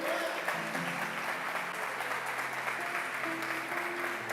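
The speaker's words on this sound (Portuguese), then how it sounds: "Você pode aplaudir essa palavra nessa noite?" A church congregation applauds during an evening sermon service, a steady, dense wash of many hands clapping that holds evenly throughout without pause, with faint background hum underneath.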